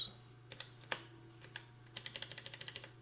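Small buttons are pressed on an Elektron Digitakt while naming a sample, a run of soft, close plastic clicks, sparse at first and then a quick rhythmic series near the end over low background hum.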